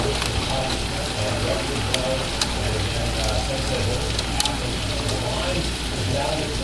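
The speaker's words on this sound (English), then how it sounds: "It's a rain wrap tornado" Heavy rain pouring during a rain-wrapped tornado storm on a New Year's Eve tornado warning in St. Louis, Missouri, a dense continuous roar with a few sharp crackles, loud and steady, with voices faintly underneath.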